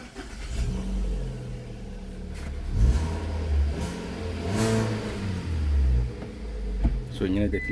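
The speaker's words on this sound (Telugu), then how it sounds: "ఇంజన్ స్టార్ట్ చేసినాం" A second-hand Hyundai Elite i20 Asta Optional, freshly serviced, has its engine started and revved in several rising bursts, a close mid-pitched car engine swelling and settling, with someone speaking over it.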